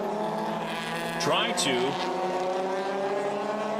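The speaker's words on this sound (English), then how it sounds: "when the cars head past our positions" Race cars at the Grand Prix de Trois-Rivieres, a steady engine drone with a car sweeping past partway through, its pitch rising then falling, while a commentator talks over it.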